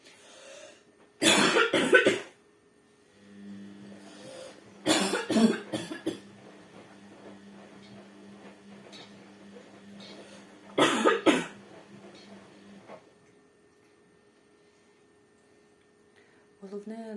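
Three bursts of harsh coughing, each a cluster of rough hacks, separated by quiet stretches with faint breathing and low background noise.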